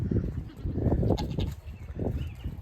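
Baby goats bleating indoors on a rainy day, several overlapping cries close by, some loud and some softer, in irregular bursts over low rustling.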